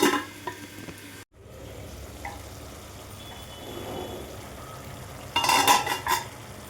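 Chicken sizzles and simmers in a covered pan with steady frying noise, a brief clatter of utensils against the pan and a louder burst of sizzling near the end.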